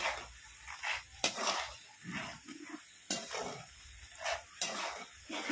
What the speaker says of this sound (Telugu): పల్లీలు వేపిస్తున్నాను బూందీలోకి.